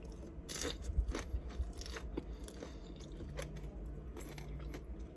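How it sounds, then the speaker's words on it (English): Crunchy fried samosa from a Nigerian small chops platter being bitten and chewed up close, with several crisp crunching bursts early on followed by quieter, steady chewing. "Listen for the crunch."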